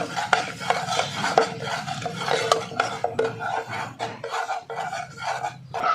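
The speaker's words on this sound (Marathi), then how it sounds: "हे मंद आचेवर खमंग लालसर होईपर्यंत भाजून घ्यायचं आहे" Gram flour being stirred and roasted in a pan over a low flame while making moong dal kachori: steady scraping and rubbing of a spoon against the pan with light clinks, close and continuous, no talking.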